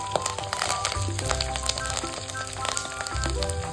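Small cashew pieces with curry leaves and green chili frying in ghee, a crackling, spattering sizzle close by with sharp pops throughout, no voices.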